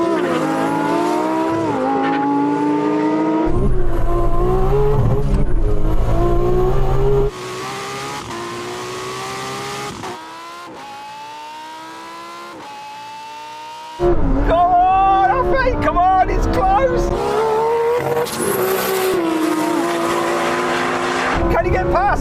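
Two cars, one with a dual-clutch gearbox and one with a manual, launch in a drag race, engines revving hard and shifting with rising and dropping pitch, loud and close over a steady roar.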